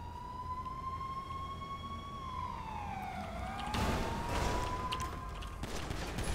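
In the Cops n Crooks video game, a police siren wails and sweeps up and down in pitch, then a burst of gunfire breaks out partway through while the siren keeps going.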